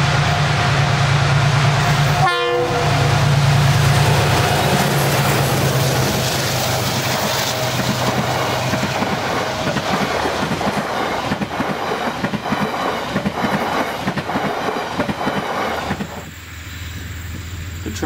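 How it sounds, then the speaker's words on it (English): The TranzAlpine Express runs at full throttle, a steady loud rumble and clatter of engine and wheels that lasts throughout, with a brief horn blast early on. It is close and continuous. "we once again see the train at full throttle"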